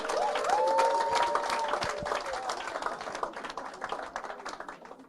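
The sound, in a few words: audience clapping at office launch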